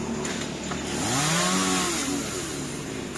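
A chainsaw cuts into a tall coconut tree in a home yard, the engine loud and close as it revs up into a rising, sustained whine, then eases back while the saw keeps running.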